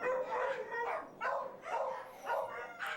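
Several dogs bark repeatedly in a veterinary hospital boarding kennel, loud and close, with overlapping bursts of barking and yips echoing in the room.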